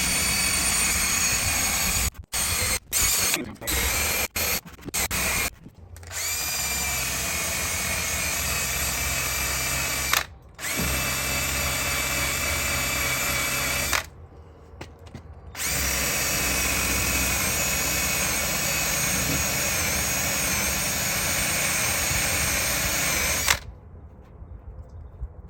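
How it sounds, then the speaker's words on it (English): A 3M eraser wheel spun by a drill strips adhesive off a vehicle's fenders after the fender flares come off, a loud steady grinding whine that cuts out in several short breaks and stops near the end. "go to each fender and get this adhesive off using our 3M eraser wheel"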